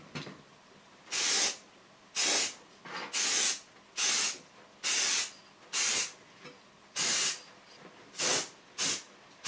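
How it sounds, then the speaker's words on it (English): Chrome look spray paint coating a car headlight part, heard as about ten short, loud hissing bursts from an aerosol can, separated by brief pauses, close up and with no talking. "Give it another coat of the chrome look paint."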